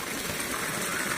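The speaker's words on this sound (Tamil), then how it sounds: "குளிக்க சத்தம் சூப்பராக இருக்குல்ல?" Steady gushing water pours continuously while someone bathes outdoors in a garden under midday sun, a close, unbroken rush with no voices.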